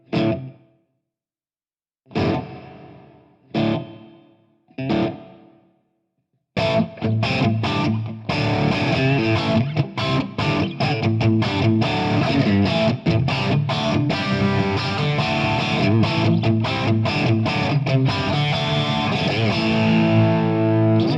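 A few short guitar strums through a Fractal FM3 separated by silence, then a sustained, distorted guitar passage played continuously with a medium-room reverb tail.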